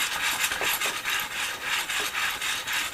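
A 4-cylinder DOHC model engine is turned over by hand, giving a repeated close-up rubbing, scraping rhythm of several strokes a second with no speech.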